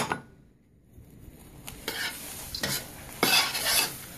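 A spoon stirs a melting mixture with vanilla extract in a pot for Rice Krispies treats, giving several distinct scraping strokes with light sizzling, close and growing louder toward the end.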